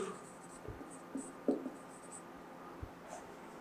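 Marker or chalk writing on a classroom board, with a few faint, short scratchy strokes at a low level and no talk.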